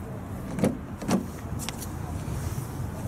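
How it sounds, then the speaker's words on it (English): Rear electric windows in a Vauxhall Astra SE whirring, with faint motor runs and a couple of soft clunks heard quietly inside the cabin. "The car has rear electric windows,"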